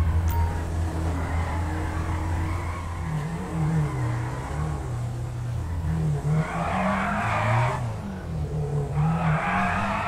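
A car in a GTA roleplay game drives with a steady engine drone and revs that rise and fall, joined by two bursts of tire skidding near the end.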